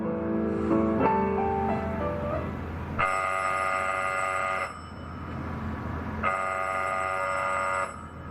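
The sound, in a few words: telephone bell ringing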